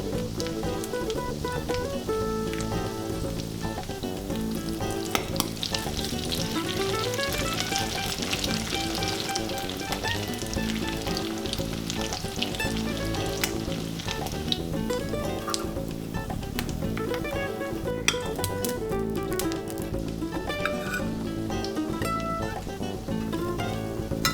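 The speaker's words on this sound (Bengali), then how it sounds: "কয়েকটা বড়া ভাজলেই মাছের তেল গলে তেল বেড়ে যায়" Fish-oil fritters (tel bora) sizzle and crackle steadily in hot oil over medium heat, a dense continuous frying hiss with scattered pops and no talking.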